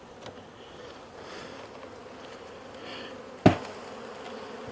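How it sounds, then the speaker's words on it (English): Honey bees buzz around an open ten-frame hive as a feeder is shaken out, a soft continuous hum with one sharp knock near the end. "Shake the bees out of the feeder."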